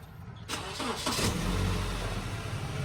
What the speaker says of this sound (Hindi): तो स्टार्ट करते हैं गाड़ी को।